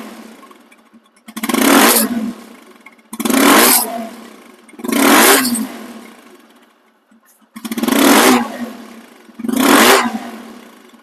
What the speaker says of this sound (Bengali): সাউন্ড কোয়ালিটি শুনুন।